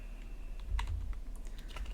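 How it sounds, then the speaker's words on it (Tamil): Typing on a computer keyboard: a few faint, scattered key clicks over a steady low hum of room noise, with no talking. "டைப் பண்ணிக்கலாம்"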